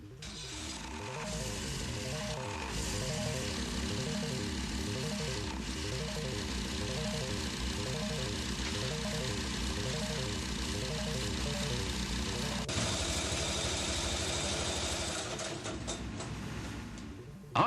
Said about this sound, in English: completed engine is run for 30 minutes in the test cell to check that it conforms to every specification